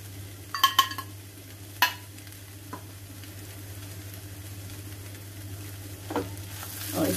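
Tomato puree poha being mixed in a pan with lemon juice added, soft scraping stir strokes with a few sharper clinks early on over a steady low hum, no talking.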